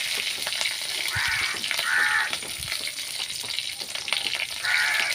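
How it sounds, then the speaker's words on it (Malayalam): Mustard seeds and curry leaves sputter and crackle in hot coconut oil in a small pan, a steady close frying hiss with louder bursts of popping, heard alone with no talk. "ചെറിയ അടുപ്പത്തേക്ക് വാങ്ങി വെച്ച് കടുക് പൊട്ടി കഴിഞ്ഞ് കറിവേപ്പിട്ട്"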